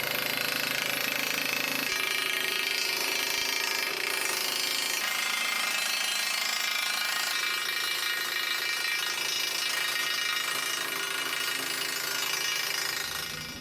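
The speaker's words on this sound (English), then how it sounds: "I'm going to try and rattle this loose and then hopefully lift it somehow" A rusted tank turret top is rattled loose from its ball bearings, a loud, continuous grinding and metallic rattling hammer close by, steady for many seconds with no talk.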